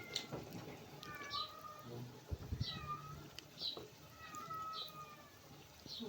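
A cat meows repeatedly at a moderate distance, several drawn-out cries spaced a second or two apart over soft background noise.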